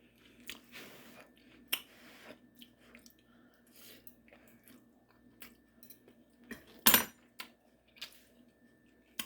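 Someone takes a bite of ramen noodle stir fry, eaten with a fork straight from the pot. Soft chewing and biting come with occasional sharp clinks of the fork against the pot, close and fairly quiet, with no talk.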